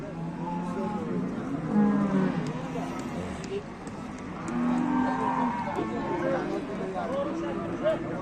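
Cattle lowing at a livestock market, several drawn-out moos rising over a busy background of murmuring voices and bustle, moderately close.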